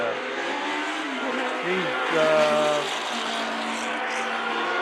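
Vintage Formula race cars, among them John Blair's number 5 Lotus, scream past with rising and falling engine notes and a brief tire squeal, under a commentator's running talk.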